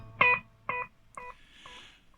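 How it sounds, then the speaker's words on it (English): Guitar through a Tom'sLine APE3S digital delay pedal set to a plain echo: a few plucked notes, each followed by fainter repeats trailing off into a soft wash. "just a plain echo."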